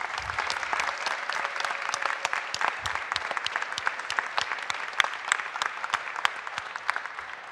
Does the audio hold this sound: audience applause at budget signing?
yes